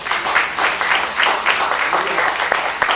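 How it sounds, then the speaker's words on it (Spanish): A church congregation applauds during a sermon, a loud, close burst of many hands clapping with slight rhythmic pulses and a sharp clap near the end. "Denle un aplauso al Señor."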